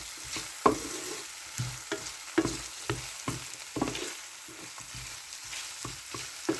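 Onions frying in leftover olive oil in a pan, a close continuous sizzle broken by repeated stirring scrapes at an uneven rhythm, with no voices.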